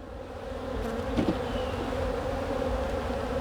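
Honey bees at a bee farm in Baton Rouge buzz in a steady, close drone that fills the whole stretch, with a brief louder swell as one insect passes near the microphone.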